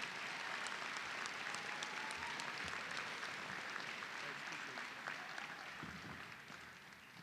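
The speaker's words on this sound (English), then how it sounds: "So you get 2 rounds of applause for Sexton." Sustained applause fills a senior scholar athlete recognition ceremony, a crowd clapping steadily for several seconds before gradually tapering off.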